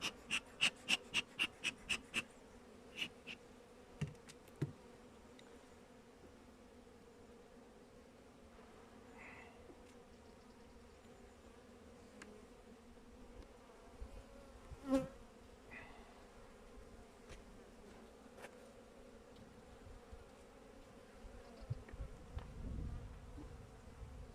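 Honeybees buzzing steadily at an opened hive during a late-November inspection, a close continuous insect drone with scattered louder passes and clicks, no talking.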